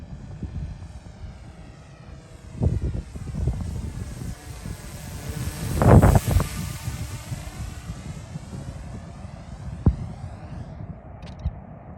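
Small radio-controlled V-tail pusher plane on an automated launch, its propeller and motor buzzing steadily with a loud swell near the middle as it passes close, then fading back to a lighter drone.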